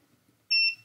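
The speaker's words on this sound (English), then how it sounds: "One side should beep, the other side shouldn't beep." A single short electronic beep from a multimeter continuity test, high-pitched and clear, sounds once after near silence.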